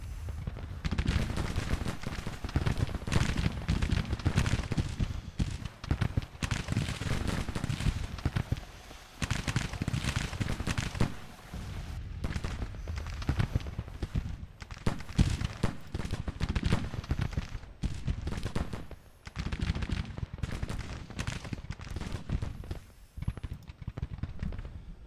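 Musket volleys crackle across a Civil War video game battlefield, with repeated dense bursts of gunfire, scattered single shots and heavy booms in waves, loud and continuous with brief lulls.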